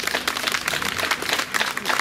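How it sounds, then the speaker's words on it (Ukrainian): Audience clapping at a village day celebration in Panivanivka, a steady, dense round of applause from a crowd lasting throughout, fairly close and even in loudness. "ви, якщо я правильно сказала, ви підтримаєте мене оплесками"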